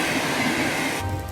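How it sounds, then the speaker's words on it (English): A fast, modern Ukrainian-built passenger train running, a steady broadband rumble and rush of wheels on rails that drops to a lower drone near the end, with no voices. "This Ukrainian-built train is whizzing me down to my next stop at Podilsk"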